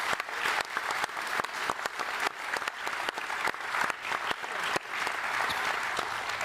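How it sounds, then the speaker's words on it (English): A large conference audience bursts into sustained, dense applause, many hands clapping at once in a rolling, even roar that holds strong from start to finish. "So can we just have a massive round of applause for all our young activists for what they did?"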